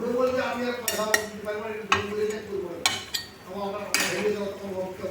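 Salt being stirred into tomatoes in a pan for a Bengali home lunch, with a utensil scraping and clinking against the metal at irregular intervals over a soft background sizzle, close and moderately loud.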